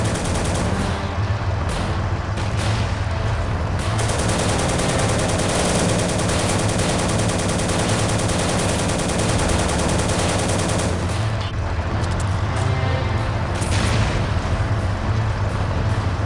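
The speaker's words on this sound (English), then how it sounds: "There's one more flak firing here." Loud, continuous battle gunfire from a World War 2 game fills the whole stretch: rapid machine gun bursts and flak firing blend into a dense, steady roar with no talk.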